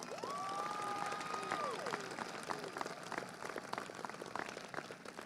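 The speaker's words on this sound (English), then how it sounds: "Please join in giving me one more big round of applause as they both stand to be recognized one more time tonight." Audience applause at the Mount Dora High School Class of 2025 graduation ceremony, a steady wash of distant clapping with a faint cheer, running throughout under a sustained tone.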